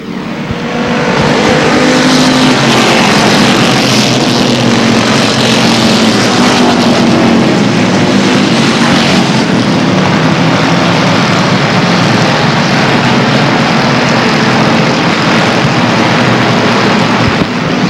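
Race cars battle side by side on a speedway at Airborne Speedway, engines roaring loud and sustained as the pack howls past up close, with no pause in the noise.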